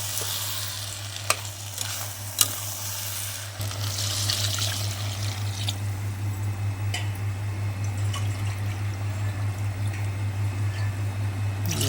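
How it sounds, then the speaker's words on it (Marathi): Steady rushing and bubbling of water poured into a pot of chicken biryani, a continuous splashy hiss under a low hum, with a few clinks early on. "आता आपण पाणी टाकून घेऊया"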